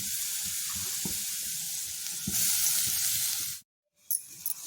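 Vegetables and carrot frying in a pan for a simple breakfast dish: a loud, steady hiss of sizzling oil with soft stirring knocks, cut off abruptly by a short silence before resuming faintly.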